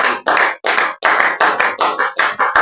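A church congregation claps together in praise of the Lord: loud, rhythmic bursts of applause in several quick clusters, with short gaps between them.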